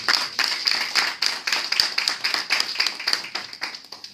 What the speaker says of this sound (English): Round of applause for Keith Warren.